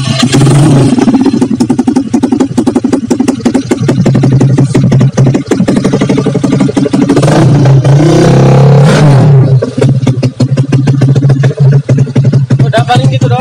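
A Honda Beat motorcycle with an orange finish and an emptied-out muffler revs loudly and up close, the engine note climbing and falling through repeated throttle blips with a raspy, sharp edge over a steady idle.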